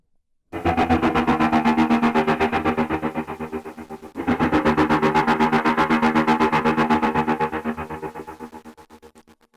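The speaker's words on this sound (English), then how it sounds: "So now you'll hear kind of a hiss to it, which you may or may not want." An electric kazoo played through a clipping distortion effect gives a loud, buzzy, heavily saturated drone in two long sustained phrases with a brief break between, a steady hiss underneath, and no voices.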